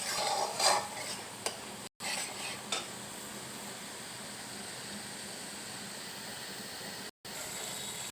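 Spice paste frying in oil, stirred with a utensil: a steady soft sizzle runs throughout, with a few scraping strokes and light clinks near the start, no talking.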